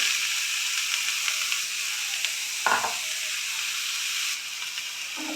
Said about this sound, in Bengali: এখন দিয়ে দেব গাজর।